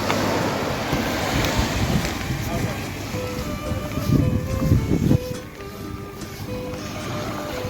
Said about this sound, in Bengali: ও ঢেউগুলো বাড়ছে